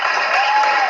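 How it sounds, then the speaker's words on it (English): A brief burst of clapping and crowd noise from an audience, dense and fairly loud, filling the whole moment without a clear start or finish. "You needed applause for that."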